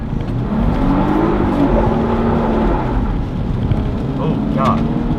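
A 2014 Jeep Wrangler engine drones and revs in a steady, loud rumble while it drifts sideways through a wide corner on a street, with a voice speaking over the noise.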